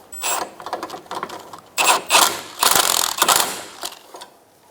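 A 15mm socket ratchet snugs down a rear sway bar link bolt on a 2012-2016 Subaru Impreza, giving bursts of rapid clicking strokes close to the mic, with short pauses between swings.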